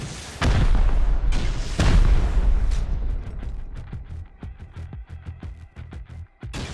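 An explosive launcher firing in the survival video game Rust: two heavy, booming blasts close together, each with a long rumbling decay, followed by a run of sharp mechanical clicks and lighter pops.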